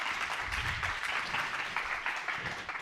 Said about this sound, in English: I think we should do a big round of applause to Natasha.